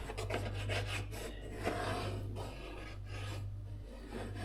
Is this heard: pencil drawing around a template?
yes